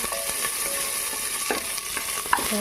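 Onions fry in a hot pan with a steady, dense sizzle, broken by a few soft scrapes and taps of stirring, close and fairly loud with no talking.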